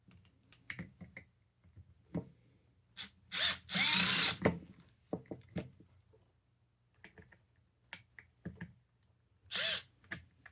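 A Snap-On CTS761 brushed 3/8-inch impact wrench whirs in a few short bursts, one longer spin in the middle, between scattered clicks and taps of handling.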